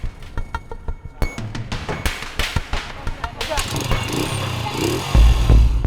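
Motorcycles carrying vaccine carriers strapped to the back labor up a steep mountain road, their engines revving with irregular bursts and clinks under a narrator's voice, then growing louder near the end.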